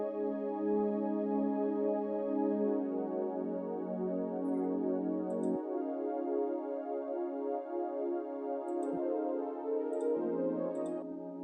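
Layered synth pads, including a breathy pad, hold warm sustained chords for gospel music production. The chords shift twice, with faint high clicks scattered over the smooth, steady wash of sound.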